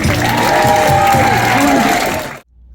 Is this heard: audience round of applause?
yes